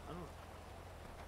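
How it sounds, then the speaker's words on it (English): Rain falls in the GTA NoPixel video game, a soft, steady patter that stays faint in the background, with a brief vocal sound near the start. "I don't know if I want to race in the rain."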